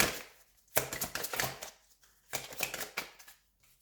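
Tarot cards are handled and shuffled in two brisk bursts of papery riffling and flicking, each about a second long, separated by a short quiet pause, close up with no voices.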